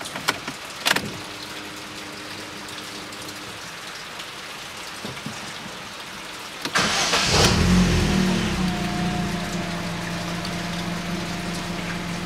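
A 2011 Chevrolet Cruze with the F18D4 engine, just off a timing-belt and cam-phaser job, cranks and catches, then settles into a steady idle drone, with quiet clicks and rain-like hiss before it starts.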